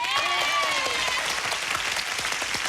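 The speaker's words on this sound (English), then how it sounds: "Some fans in the crowd cheer for you." Game show studio audience applauding and cheering for the arriving contestant family, a loud sustained wave of clapping with whoops and shouts layered over it.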